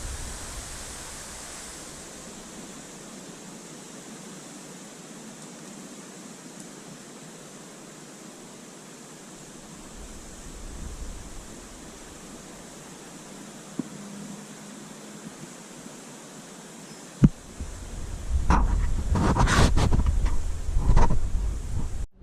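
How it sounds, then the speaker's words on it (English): Strong, steady storm winds roar as a severe storm line approaches, a broad hiss building and turning gustier with louder buffets near the end. "Now the storm line's getting closer, so the winds are increasing now."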